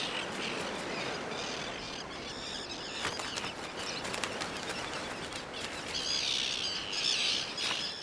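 Adult birds flap and call around a nesting site in the Canadian wilderness, with busy wingbeats and scattered chirps and squawks over a steady outdoor wash, growing livelier toward the end.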